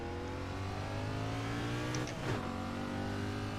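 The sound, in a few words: NASCAR Cup car engine revving, from iRacing video game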